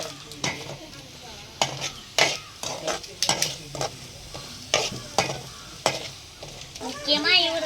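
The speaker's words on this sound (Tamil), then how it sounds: "இது எல்லாத்தையும் சேர்த்து நல்லா வதக்கிக்கிட்டே இருக்கலாம்." Spices and salt being sautéed in a pan for Maggi noodles, with repeated scraping stir strokes and clinks of a spoon against the pan over a soft sizzle, close and fairly quiet.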